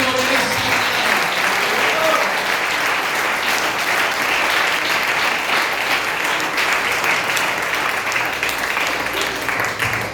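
A church congregation applauds during a Sunday service, dense and loud continuous clapping from many hands filling the room for about ten seconds without a break.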